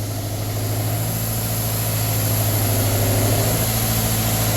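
Amtex Equipment Stack 570 pressure washer engine running steadily as it warms up, a loud, constant low idle hum with a strong droning tone and even vibration, no pauses, no voices.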